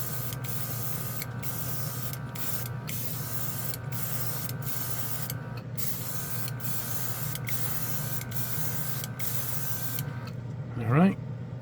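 A hobby airbrush sprays paint in a steady, fine hiss over the hum of a small compressor, with brief regular breaks as the trigger is released, followed by a short rising whine near the end.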